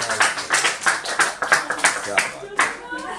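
A small group at a girls' cricket tour gathering claps loudly in distinct, slightly irregular bursts. The sharp hand slaps are close and sound like fairly few people, and they taper off near the end.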